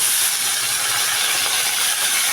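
Ground onion paste fries in hot oil in a wok, giving a steady, bright sizzling hiss that stays even and fairly loud throughout, with no voices over it.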